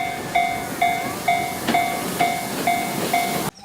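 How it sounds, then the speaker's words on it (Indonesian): Red toy locomotive train sounding a repeated electronic horn tone, about eight evenly spaced beeps with mechanical chugging behind them, close and clear, cut off abruptly at the end. "Yeay, kita menemukan mainan kereta api,"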